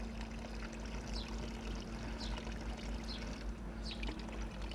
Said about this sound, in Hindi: अभी इसमें हम थोड़ा पानी ऐड करेंगे, तकरीबन आधा केजी पानी ऐड करेंगे।